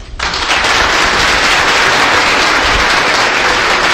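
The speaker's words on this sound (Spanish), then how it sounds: "Que se sienta ese aplauso" Audience applause at a public presentation of a municipal development plan in Sabana Iglesia: dense, steady clapping from a crowd that swells in within the first half-second and stays loud and even throughout, with no talk over it.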